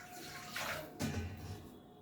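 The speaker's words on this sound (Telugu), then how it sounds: "ఫస్ట్ ఒక గ్లాస్ వాటర్ పోస్తున్నాను" Water is poured from a glass into a cooking pot, a short splashing rush in two bursts, the second lower and fuller, heard close and alone.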